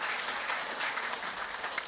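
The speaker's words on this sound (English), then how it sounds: "And give her a round of applause because she's up here." Steady, dense applause from an audience at a regional sports awards ceremony, an even wash of many hands clapping at moderate loudness without speech.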